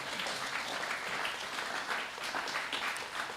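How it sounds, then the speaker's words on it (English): An audience at a panel discussion on the U.S. at 250 claps for the panel, a fairly faint, dense, steady round of applause heard from a distance. "let's give our panel a great round of applause"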